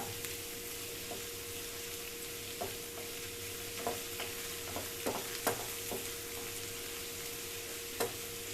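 Radish chutney sautés in a pan with a soft, steady sizzle and a faint hum, as a spoon scrapes and taps the pan in scattered knocks.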